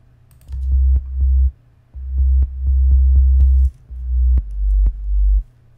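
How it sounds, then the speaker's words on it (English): Synthesized sine wave sub bass run through a compressor with sidechain compression, deep steady low notes held in several phrases with brief gaps and clicky note starts, heard alone without talk. "Very simple, just sine bass."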